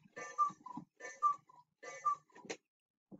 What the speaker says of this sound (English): Sorry about the cuckoo clock